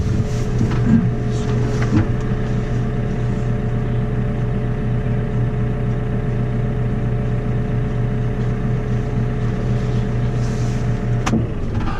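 A telehandler diesel engine runs steadily nearby while straw is loaded, a loud, even low drone with a sustained hum and occasional knocks and clanks over it. No voices are heard.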